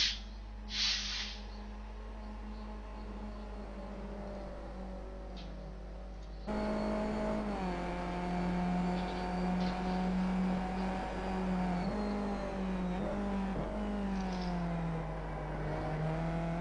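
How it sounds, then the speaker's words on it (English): Race cars lap Laguna Seca in the iRacing simulator, a steady buzzing engine drone with shifting pitch as one car chases another, the engine note growing louder and rising and falling through gear changes. "Christian Arana is on his 28th lap, and he's just catching the pink car of Jonathan Boutel."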